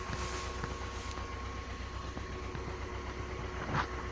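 A tractor engine idles steadily at a field's edge, a low continuous rumble with a faint mechanical drone, fairly quiet and unbroken, with no voices.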